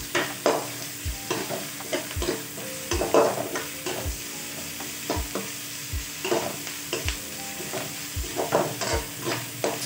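Ginger garlic paste sautés in a pan for a chilli idli curry, a steady sizzle broken by regular scraping stir strokes roughly every second, close and moderately loud with no talking.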